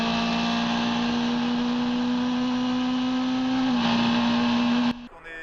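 An endurance race car heard on board during a V de V Endurance Series race at Barcelona, its engine a loud, steady drone at near-constant pitch that rises slightly before cutting off abruptly near the end.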